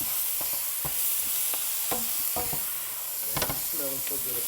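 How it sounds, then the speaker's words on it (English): Collard greens sautéing in a pan, a constant close hiss of frying broken by several sharp utensil clicks and scrapes, with no talk. "So now I'm gonna let it saute a little bit, right?"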